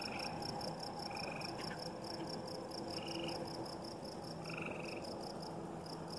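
Tree frogs call in short repeated trills over a constant insect chorus at night by a farm pond, several bursts spaced a second or so apart, fairly close.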